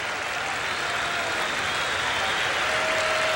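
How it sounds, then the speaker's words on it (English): Ballpark crowd at a Seattle Mariners at Boston Red Sox game applauding departing pitcher Mike Moore, a broad continuous roar of clapping and cheering from a large stadium audience, steady and distant-sounding. "he will get a well-deserved round of applause here"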